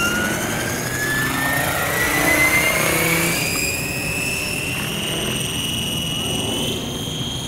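An RC helicopter, a Tron 7.0 Dnamic, takes off with a loud rising whine of rotor and motor spooling up, steady and close throughout.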